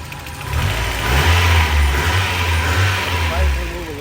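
A Mazda Miata engine idles with a low, uneven rumble, shaking on worn motor mounts, rising briefly as if revved, close and steady throughout.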